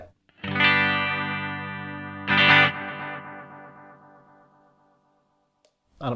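Guitar chord played through a Strymon Volante echo in tape mode, with a second strum and dark, dull repeats fading away; two loud attacks, then decaying echo tail, no talk.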